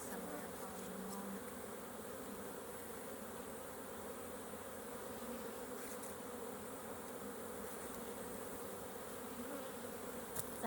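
Honeybees buzz steadily around an open hive during an inspection, a dense continuous hum that stays faint and even throughout with no talking.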